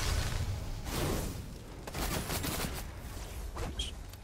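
Gunfire in an online shooter video game, repeated rapid volleys and bursts, somewhat distant and of moderate loudness, continuing throughout the clip.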